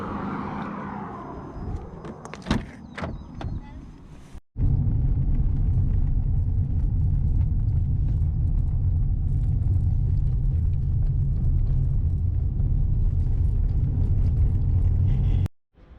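Steady low rumble of a rental car driving along a road in Turkey, loud and constant with road and engine noise, preceded by a few seconds of quieter outdoor clatter before the car noise starts.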